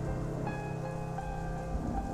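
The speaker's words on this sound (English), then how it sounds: "The rain keeps getting more horrible as the wind dominates my hearing." Heavy rain falling steadily at moderate loudness, a constant wash of drops with faint low rumbles underneath and no voices.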